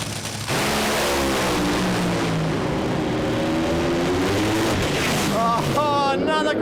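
A Top Fuel dragster roars down a drag strip, a loud broadband engine rumble with rising tones toward the end, heard under a commentator's talk.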